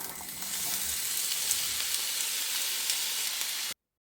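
Cumin seeds frying in fully heated oil in a hot frying pan, a loud, steady hissing sizzle up close that runs on evenly and then cuts off abruptly.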